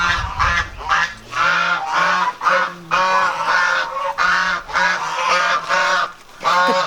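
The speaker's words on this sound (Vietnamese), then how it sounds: "Con vịt, con vịt to quá kìa" A big duck honks and quacks loudly and close up, in a steady run of repeated calls with short gaps between them.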